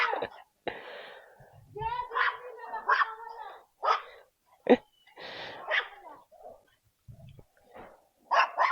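A small Pomeranian dog gives several sharp, high barks and yips close by, spread unevenly among bursts of human voices and laughter.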